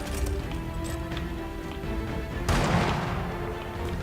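Incendiary grenade going off in the video game Gears of War 4, a sudden loud burst that erupts partway through over ongoing gunfire and game noise, then lingers as a roaring crackle.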